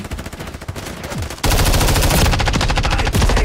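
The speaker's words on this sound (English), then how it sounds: "Who's shooting me?" Rapid automatic gunfire from a video game, loud and close, with a burst of shots followed by a sustained, dense stream of fire.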